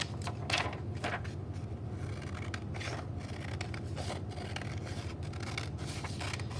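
Scissors cut through paper along a traced outline for a paper cup, a steady close scraping with sharp snips clustered near the start, over a constant low hum and no voices.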